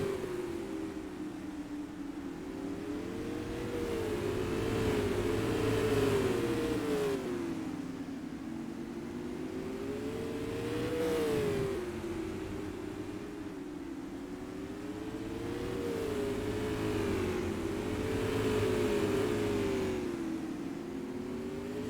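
Race cars at Madera Speedway in the Summit Classic 125 roar past in loud, continuous engine drones, the pitch swelling and falling in repeated waves as the cars rev through the turns and the field circles the track.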